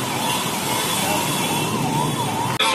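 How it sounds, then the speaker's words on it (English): Emergency vehicle sirens wail steadily through traffic on a Mumbai street near Bandra Reclamation, a continuous rising and falling tone over road noise that cuts off abruptly at the end. "Itne sare ambulances."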